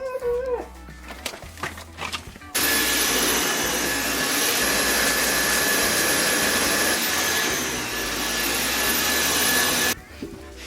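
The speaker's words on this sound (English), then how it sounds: "I think Mr. Dyson's made vacuuming enjoyable" A Dyson vacuum cleaner sucking up mud tracked indoors on shoes runs as a loud, steady, close roar for about seven seconds, starting abruptly after a few quiet knocks and cutting off sharply near the end.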